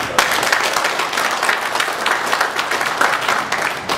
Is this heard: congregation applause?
yes